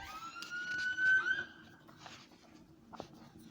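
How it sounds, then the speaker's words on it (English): Police siren wailing somewhere in the distant city, a rising and falling tone heard faintly through quiet surroundings, with a few brief knocks and rustles nearby. "You can hear the sirens in the background."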